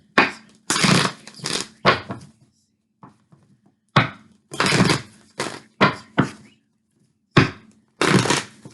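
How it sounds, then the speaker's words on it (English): A deck of tarot advice cards is shuffled by hand, with loud, close bursts of riffling and slapping that repeat in uneven clusters and short pauses between them. "let's get some advice cards"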